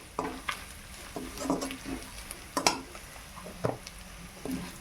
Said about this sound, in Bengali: হলুদটা একটু নেড়ে নেই